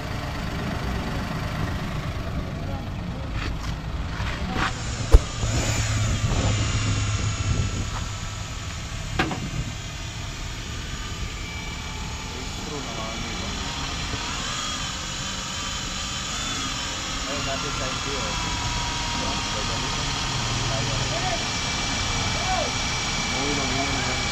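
A Suzuki Jimny 4x4 on 165/55 R14 tires starts and settles into a steady idle, its low engine rumble running continuously with a brief clunk early on. Someone talks over it.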